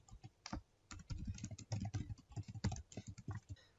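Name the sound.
typing email and password on a computer keyboard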